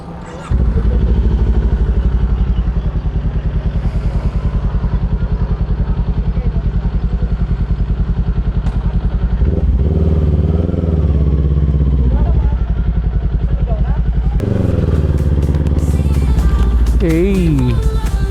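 A motorcycle is ridden along the roads of Legazpi City in Bicol. Its engine drones loud, close and unbroken throughout, with wind and road rumble, while a rider speaks over it.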